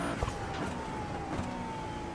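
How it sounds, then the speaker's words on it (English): A steady engine drone with a low exhaust burble and faint crackle on downshifts, a racing car in iRacing holding a constant note with slight pitch shifts. "I could listen to that exhaust"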